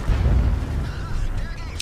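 A heavy low boom from a VK 100.01 P tank cannon in World of Tanks fires on the move at the start, followed by rumbling engine noise and a brief metallic ping near the end.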